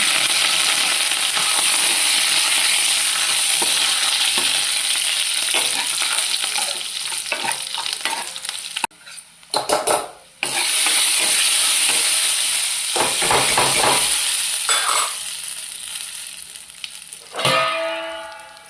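Curry leaves and tempering spices sizzle in hot oil in a long, loud, dense crackle. Near the middle there are short gaps, and a fresh burst of spitting hiss comes toward the end.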